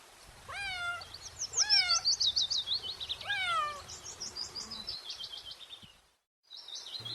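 A cat meows several times in quick rising-falling calls, with brighter chirping bird-like tones woven through, fairly close and clear with no talking.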